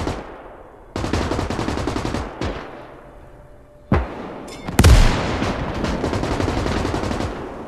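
Gunfire from the World War II game Call to Arms: Gates of Hell, Ostfront conquest, with bursts of machine-gun fire and single heavy shots, some sharp and close, coming in loud waves separated by brief lulls.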